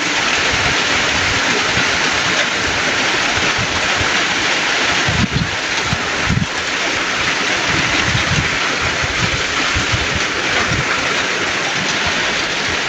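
Heavy rain pours in a steady, dense roar that holds loud and unbroken throughout, with a few brief low thumps near the middle and no voices.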